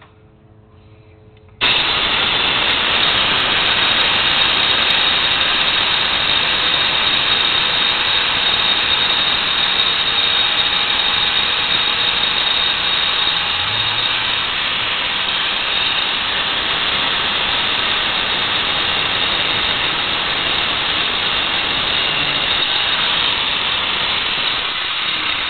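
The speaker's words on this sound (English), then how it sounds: "I'm going to use the grinder on this battery cable to cut it off." An angle grinder starts abruptly and runs loud and continuous, cutting through a truck battery cable with a harsh, sustained whine that barely wavers for over twenty seconds.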